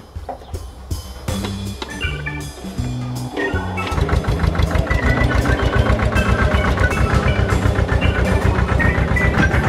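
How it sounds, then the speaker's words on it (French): A Massey Ferguson 220 tractor engine chugs close by, starting with uneven knocking pulses and settling into a loud, rapid, regular diesel idle. "La bête est là mon gars. Massey Ferguson 220."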